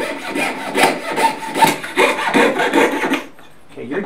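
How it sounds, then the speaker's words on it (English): A jeweler's saw cuts through cuttlefish bone in close, steady, rhythmic back-and-forth rasping strokes, then stops briefly before a few final scrapes. "your jeweler's saw will cut right through it"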